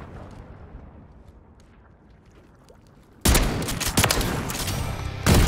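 SPAS-12 shotgun fired in a video game: after a quiet stretch, a sudden loud close burst of blasts, then a rapid run of booming shots with another heavy shot at the end.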